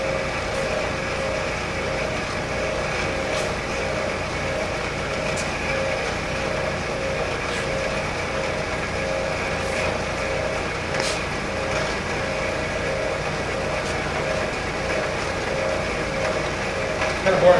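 A bandsaw cuts slowly through aluminum stock in a shop, giving a steady, continuous mechanical drone with a constant hum and a few faint ticks.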